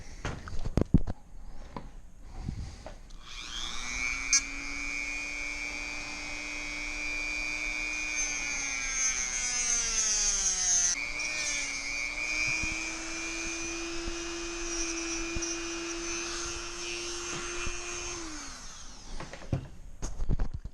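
A power tool cuts through thick 4-gauge battery cable while wiring a 12V isolator in a Toyota Tundra. After a few handling knocks, it runs as a steady, close whine that holds for about fifteen seconds, dips in pitch midway and then stops.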